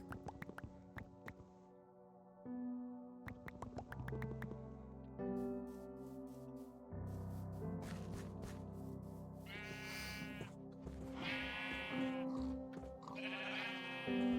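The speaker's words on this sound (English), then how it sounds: "I misjudged the amount of cow and sheep I had." Sheep bleating in the Minecraft video game, several wavering bleats near the end over a soft backdrop of game ambience and dripping, moderately loud.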